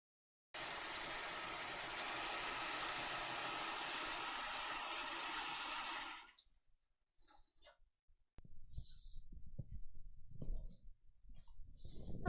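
A sewing machine stay stitches around the armholes and neckline of a Leschi top's back yoke piece: a steady, loud mechanical whirr for about six seconds, then stops, followed by scattered quieter handling sounds and rustles.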